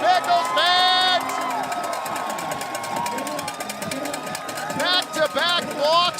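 A crowd of about 4,000 at a Walker Stadium baseball playoff game, Portland Pickles against Ridgefield Raptors, roaring and whooping steadily with bursts of whistles, while a commentator talks over it.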